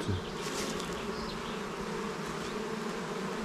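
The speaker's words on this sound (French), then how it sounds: "grosse arrivée d'abeilles" Honeybees swarm around a polystyrene nucleus hive, giving a continuous droning buzz with individual bees zipping close past, steady and fairly quiet, with nothing else heard.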